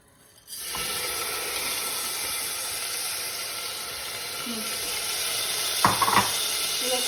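Rice hitting hot olive oil in a pan bursts into a loud, steady sizzle that holds for several seconds, with a couple of brief clinks or scrapes near the end.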